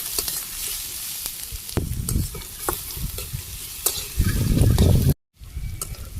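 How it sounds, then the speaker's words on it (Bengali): Chopped onions sizzle in a hot pan while a spatula stirs and scrapes them, loud close scraping bursts over a constant frying hiss, with one brief cut to silence and no talking. "পেঁয়াজগুলো হালকা লাল হয়ে গেছে, মানে সম্পূর্ণ ভাজি হয়নি"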